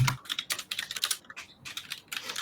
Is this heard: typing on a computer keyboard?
yes